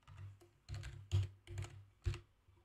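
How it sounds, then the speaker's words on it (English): A computer keyboard is typed on in short clusters of soft, close key clicks, with brief pauses between the groups of keystrokes and no speech. "Type your text."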